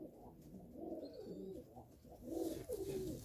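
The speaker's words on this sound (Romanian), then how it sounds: "vă prezint acești doi porumbei" Racing pigeons coo softly in low, repeated throaty phrases that swell and fade over a few seconds, quiet and fairly close, with a faint chirp and no talking.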